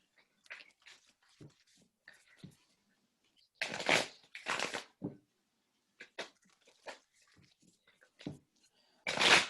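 Tarot cards are shuffled in short, crisp bursts of riffling and flicking, some louder and closer than others, separated by quiet gaps.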